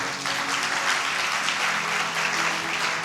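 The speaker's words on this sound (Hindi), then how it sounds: "समझ लग रही तो तालियां बजाओ जरा।" A church congregation claps together during a sermon, a steady, full burst of applause that holds at an even level for about three seconds.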